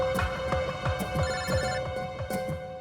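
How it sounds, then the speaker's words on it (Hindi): A telephone ringing with a steady electronic bell tone, repeating pulses in a regular throbbing rhythm, clear and close with no talk over it. "एसीपी साहब का फोन।"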